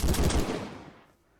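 A rapid burst of hip-fired gunshots in a Minecraft modpack game, loud at first and then fading away within about a second, with no speech.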